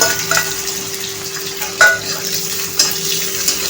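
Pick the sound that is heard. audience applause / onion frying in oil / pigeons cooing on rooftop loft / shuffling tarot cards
onion frying in oil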